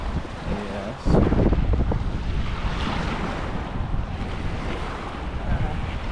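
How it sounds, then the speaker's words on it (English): Strong wind buffets the microphone beside the Highway 190 Big Bridge during a fishing outing, a loud steady roar with gusts, water wash underneath and no talk. "It is very windy today."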